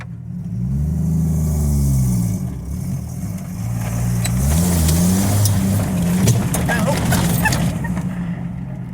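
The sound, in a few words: car driving through on a rough road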